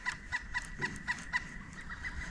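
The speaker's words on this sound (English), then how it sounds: "There's a woodpecker." A woodpecker by a pond in the late evening gives a quick series of evenly spaced sharp calls, about four per second, moderately distant over quiet outdoor background.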